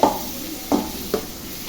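Dried fish frying with onion in a pan while a spoon stirs it: three distinct scraping strokes over a soft, continuous sizzle, close up and with no one talking.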